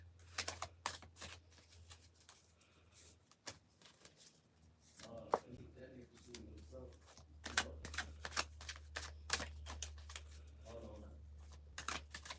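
Tarot cards shuffled close by in quick papery riffles and taps, coming in bursts over a low steady hum, with a person talking between and over them.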